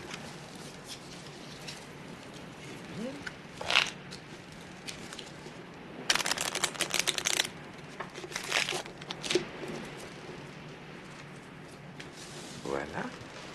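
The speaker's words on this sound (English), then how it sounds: "You can shuffle the cards, Mr. Poirot." A deck of playing cards is shuffled for a hand of bridge, giving soft papery riffles and a dense flurry of crisp card flicks mid-way, fairly faint against a quiet room.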